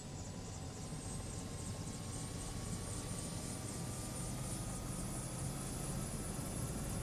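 Bell 407 helicopter in Flight Simulator 2020 with its rotor spinning up, a steady broadband whine and rumble holding even throughout, a faint rising tone climbing slowly underneath.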